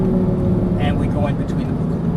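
An Audi R8 V10 engine drones steadily from inside the car under throttle on a track, a low continuous rumble with people talking over it.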